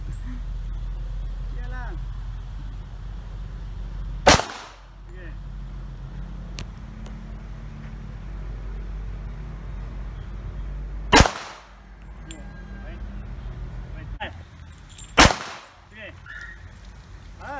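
Three sharp, loud firearm shots ring out during shooting training, spaced several seconds apart over a steady low rumble, with people talking and giving instructions between them.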